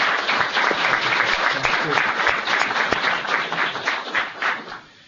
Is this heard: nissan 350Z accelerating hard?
no